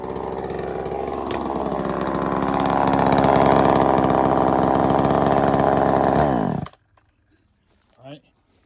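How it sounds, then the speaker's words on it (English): A 40cc chainsaw cuts slowly through dry hardwood, its engine droning loud and close under load for about six seconds before stopping abruptly, followed by near silence and a brief faint noise. "40cc chainsaw. Yeah, it was a slow cut"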